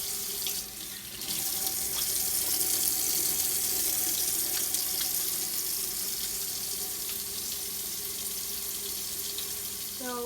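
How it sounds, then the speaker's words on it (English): Hands washed under a running kitchen tap, a steady loud rush of water splashing into a sink that continues nearly unbroken after a brief softer start, no talking. "I am washing my hands to make sure I don't put any contaminants into my food."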